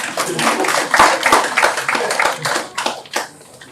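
An audience of lawyers at a seminar on startup and company compliance gives a short round of hand clapping, with sharp uneven claps close by that thin out and fade toward the end.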